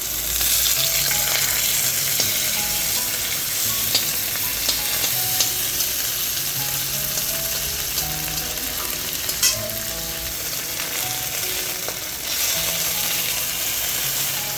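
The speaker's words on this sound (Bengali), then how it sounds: "সিদলটা আমি ভেজে নিচ্ছি।" Steady, close sizzling of dried fish frying in a hot pan, with occasional scraping stirs and small clinks throughout.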